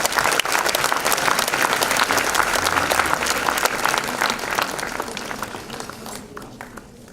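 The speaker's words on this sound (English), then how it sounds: "A big round of applause, please." Audience applause welcoming actress Sonali Bendre onto the stage at a talk event, a dense, steady burst of many clapping hands that holds for several seconds before gradually thinning and fading toward the end.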